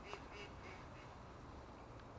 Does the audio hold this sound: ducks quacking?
yes